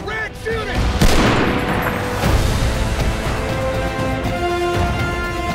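Gunfire in the World War II shooter Call of Duty: WWII, with heavy booming shots and bursts that ring out loud and dense beneath shouting voices and orchestral score.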